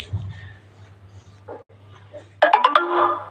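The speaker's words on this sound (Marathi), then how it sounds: "डेटा संपल्याचे मेसेज आले बघा टॉक टॉक वाजलंच" A phone message notification tone chimes near the end, a quick bright series of rising beeps after a stretch of low hum and faint background sounds.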